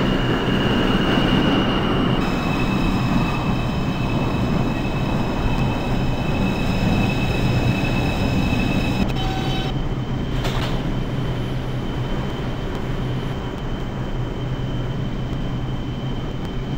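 Steady rumble of a New York City subway 2 train in motion in a video game, a constant low roar with faint high tonal whines and a brief squeal near the end, no talking.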